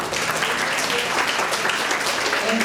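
A crowd claps steadily in a lecture hall, a dense, even wash of applause that holds at full strength for the whole stretch with no pauses.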